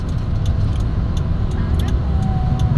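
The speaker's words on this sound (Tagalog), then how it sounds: "Medyo traffic na po sa lugar na ito." Steady road traffic rumbles at a collision scene between two white cars, with traffic enforcers present and loud, continuous engine noise. A faint jangle sits on top, and a person talks over it.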